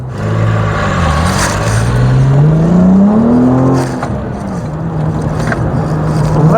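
An MG ZS 180 engine revs hard under acceleration, its pitch climbing steadily through a gear before dropping at a shift and rising again, loud and close from inside the car.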